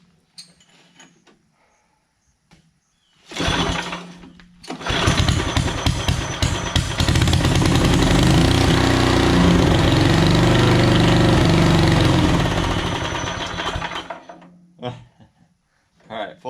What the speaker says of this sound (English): Alright, I think we're just going to add a little gas for our first start